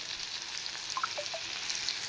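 Potatoes and soybean chunks fry with spices in a pan, producing a soft, steady sizzle with a few faint clinks and scrapes, quiet and close.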